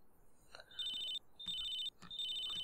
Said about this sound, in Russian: Телефонный звонок.